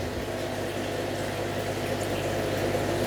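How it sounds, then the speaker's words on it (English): Water siphons brine shrimp through a hose into a jar, making a steady, continuous gurgling and trickling flow that stays close and even throughout, with no talking. "it's naturally started the siphon process to draw off a load of brine shrimp"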